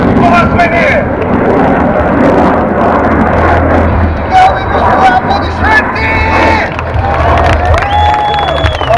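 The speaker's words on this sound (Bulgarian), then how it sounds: "Колесник на 30 метра! Това е МиГ-29" A MiG-29 fighter jet lands at Sofia airport during an air show, its broad roar rumbling beneath an excited announcer and a cheering crowd.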